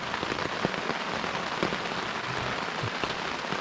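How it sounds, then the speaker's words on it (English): Morning rain falls steadily at a riverside kayak camp on John's River, a dense, even hiss of drops pattering on nearby surfaces with no voices. "it is raining pretty good"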